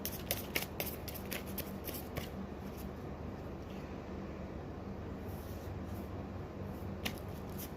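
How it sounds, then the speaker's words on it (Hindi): Tarot cards are handled and drawn from a deck, with quick papery flicks and riffles clustered at the start and again near the end, separated by a soft, low background hush. "एक लास्ट कार्ड निकाल लेते हैं"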